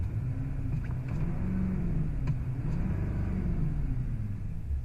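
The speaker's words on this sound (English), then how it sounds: "That diesel, that Duramax diesel up there, ticking away." A 2015 GMC Sierra 3500 Denali HD Duramax diesel pickup engine idles from inside the cab, a steady low rumble with a faint ticking, quiet and continuous with no other sounds.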